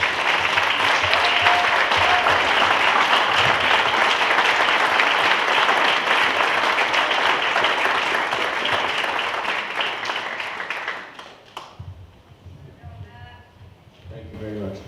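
A banquet audience applauds hall of fame inductees at a high school athletic induction ceremony. The clapping is loud and sustained for about eleven seconds, then fades out and a voice starts speaking.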